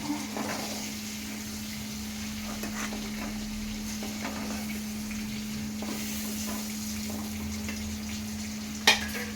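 Ivy gourd pieces cook in hot oil in a pan, a soft, steady sizzle and bubbling with a low hum underneath and a brief clank near the end.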